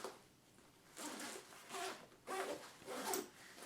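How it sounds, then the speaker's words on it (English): Zipper on a Marmot CAM 15 backpack being pulled open and shut across the front and main pockets: several close, crisp rasping strokes in bursts with short pauses between them. "you can really appreciate the high quality zipper action"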